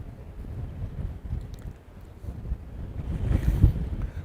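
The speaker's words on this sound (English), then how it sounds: "A little bit of wind picking up, some gusts, some heavy gusts coming in right now." Strong wind gusts at an outdoor girls' varsity soccer match, a low rumbling buffet that swells and eases, loudest toward the end, with no talk over it.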